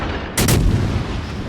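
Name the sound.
warship guns firing in video game World of Warships Legends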